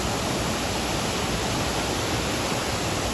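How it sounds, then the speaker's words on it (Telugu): Madhavaram waterfall roars as a dense, steady rush of falling water, loud and unbroken across the whole stretch, with no voices. "అద్భుతమైన వాటర్ ఫాల్స్"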